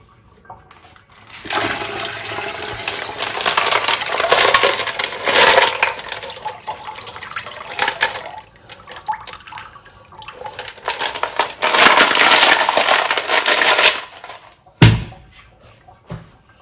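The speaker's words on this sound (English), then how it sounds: "drain off all the excess water so that the rocks are just covered with a thin layer of water" Excess water is poured and sloshed out of a rock tumbler barrel holding amazonite stones, two long noisy bursts of splashing and gurgling drainage separated by a pause, ending with a sharp knock of the barrel, with no talking.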